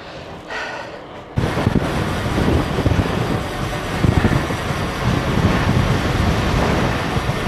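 Strong wind roars into the microphone during a muddy gravel bike race, a steady loud buffeting rush that surges in after a short quieter start and keeps gusting throughout.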